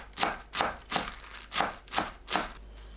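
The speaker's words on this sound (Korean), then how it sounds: "알배추를 채 썰어 주세요." A knife slices napa cabbage into strips on a board, six crisp, evenly spaced cuts close by and fairly quiet, alone without talk.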